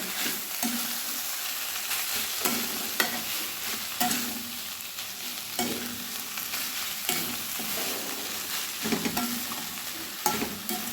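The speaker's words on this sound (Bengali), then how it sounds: "বেগুনগুলো দিয়ে আমি খুব ভালোভাবে মিশিয়ে দেবো" Eggplant pieces stirred into drumstick flowers frying in a pan, with a steady sizzle and repeated scraping stir strokes throughout, close and alone.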